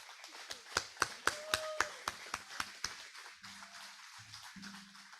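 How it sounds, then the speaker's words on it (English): A small group claps in a round of applause at a hybrid Rotary Club meeting, the distinct hand claps fairly close and steady before thinning out under a few faint voices. "I want to give her a round of applause."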